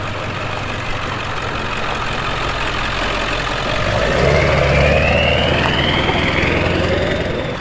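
A Ford Powerstroke diesel truck with an E4OD transmission runs loud and close on a cold test drive, its low steady rumble swelling as it pulls away, with a rising whine over the engine.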